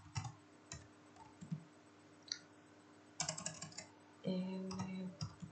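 Typing on a computer keyboard while entering a Linux command, with scattered single key clicks followed by a faster burst of close keystrokes and a brief hum near the end.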